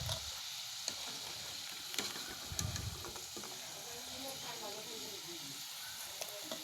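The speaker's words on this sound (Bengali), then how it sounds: "তো আর অর্ধেকগুলো আমি এখন তেলের মধ্যে ঢেলে এগুলো আমি ভাজা ভাজা করে নিতেছি।" Snacks fry in hot oil for a winter evening treat, giving a soft, continuous sizzle and hiss at low volume with a few faint clinks and stirring knocks, no talking.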